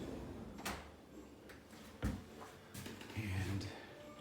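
Kitchen drawers slide open and shut several times in a row, sharp knocks and thuds spaced irregularly over a few seconds, with a person talking over them.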